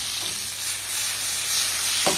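Garlic and cherry tomatoes sizzle steadily in hot oil in a terracotta pan, a dense, even crackling hiss that swells slightly near the end.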